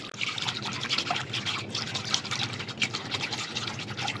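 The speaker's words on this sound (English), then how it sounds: "And I'm going to whisk this together." Liquid ingredients are whisked together in a bowl, giving a steady, fast sloshing and clicking that runs for about four seconds, close and fairly quiet, with no talking.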